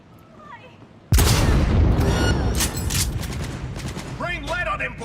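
A sudden loud burst of gunfire opens up in a Cyberpunk 2077 firefight and keeps going as a dense, continuous fusillade of shots, with faint voices underneath.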